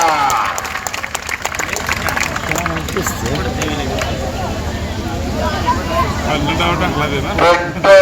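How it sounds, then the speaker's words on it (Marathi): Crowd applause at an outdoor wrestling bout, a broad steady wash of clapping from many spectators that swells near the end, with a commentator's voice running over it. "टाळ्या टाळ्या टाळ्या टाळ्या टाळ्या"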